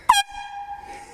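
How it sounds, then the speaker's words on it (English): Air horn mounted on the front of an ATV gives one short, loud, close blast with a sharp attack, followed by a ringing tone that fades over about a second. "I got a air horn in the front here."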